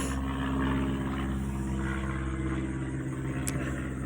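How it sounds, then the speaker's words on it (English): An airplane passing overhead, a steady low droning rumble that holds at even loudness throughout, with no voices. "Airplane."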